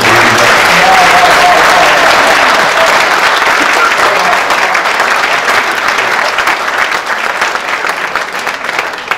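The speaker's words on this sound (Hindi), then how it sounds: "देखिए, कुछ लोग अभी भी तालियां नहीं बजा रहे हैं।" Loud, sustained applause from a large crowd at a Hindi comic poetry recital (kavi sammelan), dense clapping continuing for several seconds and easing slightly toward the end.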